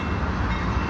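A BNSF empty truck-trailer freight train passing eastbound at a Tulare Street crossing in downtown Bakersfield, heard as a loud, continuous rumble of rolling railcars close by, with no voices.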